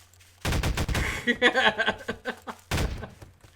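A Dalmatian launcher in Garry's Mod fires props, with loud abrupt bursts, thuds and clattering impacts, then a brief silence and one more sharp blast.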